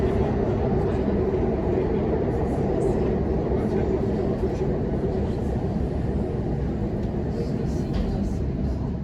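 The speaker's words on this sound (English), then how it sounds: "here is this train as it begins its descent into the Chatswood Dive Site tunnel portal" Sydney Metro train descending into the Chatswood Dive Site tunnel portal, a steady broad rumble lasting throughout, fairly loud and continuous with no talk.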